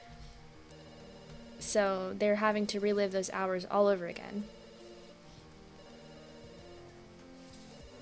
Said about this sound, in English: Okay, the phone is ringing.